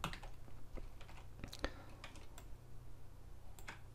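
Keyboard shortcut keys pressed while working in Photoshop on a product rendering, giving a few scattered quiet clicks and taps over a low steady hum, with no talking.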